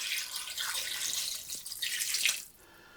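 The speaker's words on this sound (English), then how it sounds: "Okay, I'm going to also add 2 cups of water." Water poured into a pot of butter beans, a close splashing stream running steadily for about two seconds and then stopping.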